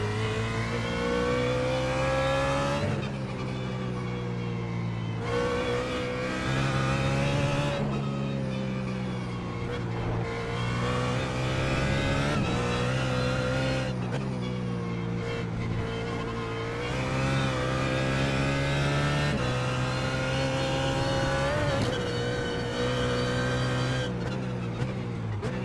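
BMW GT3 engine held in third gear at Oran Park in the iRacing sim, a steady buzzing drone with repeated throttle lifts and surges, rev pitch rising and dipping through corners, continuous and fairly quiet.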